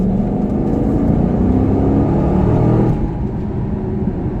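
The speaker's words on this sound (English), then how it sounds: "we're gonna go ahead and get on the gas here again" A 2015 Chevrolet Camaro convertible accelerates hard from inside the cabin, its engine note climbing in a rising drone before easing off near the end.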